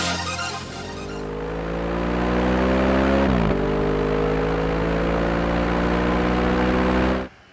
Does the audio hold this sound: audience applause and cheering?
no